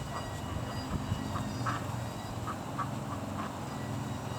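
Maturing Rouen ducks let out a series of soft, scattered quacks, a few at a time over a low steady background rumble, fairly faint and with no talk.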